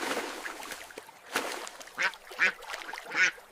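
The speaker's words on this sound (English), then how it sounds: "I feed the ducks." Ducks being fed on a farm quack in three or four short bursts amid background rustle and faint ambient noise, moderately close.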